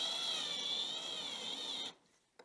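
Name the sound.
drill slowly drilling aluminum 2020 extrusion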